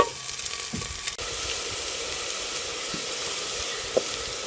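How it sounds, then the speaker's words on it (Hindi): Finely chopped onion frying in hot ghee until light golden, a constant bright sizzle close by with an occasional scrape of stirring. "इसको लाइट गोल्डन कलर होने तक प्याज को फ्राई कर लेंगे।"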